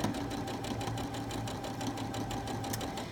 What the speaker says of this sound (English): Then continue sewing.